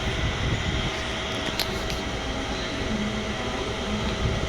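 A passenger train rumbles steadily on the way out of Mumbai, a continuous low rattling roar heard from inside the carriage, with brief metallic clanks.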